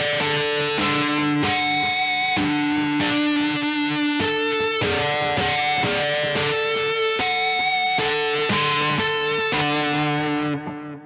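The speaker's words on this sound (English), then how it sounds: "Those tap harmonics." Electric guitar played with tapped harmonics through overdrive or distortion, bell-like ringing notes over a sustained distorted tone in a steady continuous phrase, loud and close with no talking.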